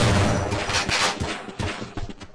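Dense, loud bursts of gunfire from Half-Life rattle continuously in a short, noisy volley with repeated sharp hits.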